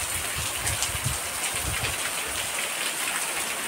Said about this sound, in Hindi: माय गॉड क्या झमाझम बारिश